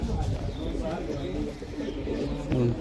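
High-flyer pigeons coo in low repeated throaty phrases close by, under someone talking.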